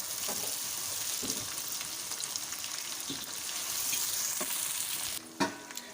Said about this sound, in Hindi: टमाटर को सौते कर लूँगी।